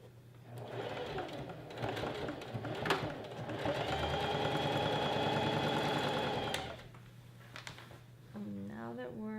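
A sewing machine stitches a 1-inch rolled hem on a knife-pleated maxi skirt, running in a steady whirring burst of a few seconds between shorter starts and stops, with a voice talking around it.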